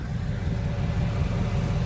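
A Mercedes E500 V8 idles through its exhaust, giving a steady low rumble that stays close and even for the whole clip, with no talk over it.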